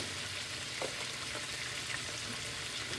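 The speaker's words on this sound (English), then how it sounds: "I'm just going to tip a little garlic in the pork, guys." Pork sizzles steadily in a hot pan as garlic is tipped in, a continuous close frying crackle with a brief stir, no talking.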